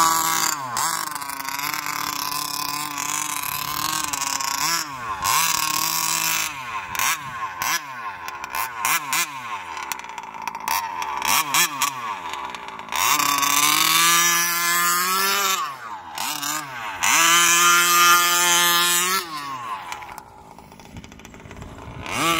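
A Losi 5T large-scale gas RC car driven on concrete, its small engine buzzing and revving up and down in repeated high-pitched bursts, with brief drops to idle between runs, loud and fairly close throughout.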